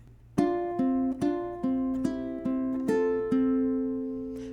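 Bar 3 of Ode to Joy plucked on a ukulele: a short run of single notes, each struck cleanly and left to ring, played up close at an even tempo with no talking.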